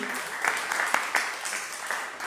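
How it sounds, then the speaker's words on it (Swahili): A church congregation claps for a woman preacher, scattered sharp claps blending into steady applause with a few voices mixed in. "Nasema pigia mtumishi wa Mungu makofi."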